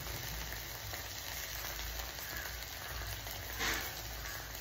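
Tomato puree frying in a pan for baigan bahar, a steady close hiss and sizzle with fine popping throughout, one brief louder flare near the end, no talking.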